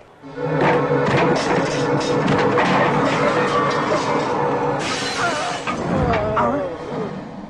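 Glass shatters loudly and keeps crashing with dense debris for several seconds, then scattered tinkling shards and a heavy thud follow in a comedy film scene.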